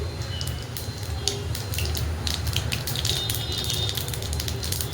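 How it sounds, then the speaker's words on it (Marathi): Cumin and mustard seeds splutter in hot oil for a pea and potato curry, giving a steady frying crackle with scattered sharp pops over a low rumble, moderately close and with no voices. "तेल आपलं गरम झालेलं, आपण जिरे आणि मोहरी टाकून घेऊया. छान अशी फुलायला लागलेली आहे जिरी मोहरी."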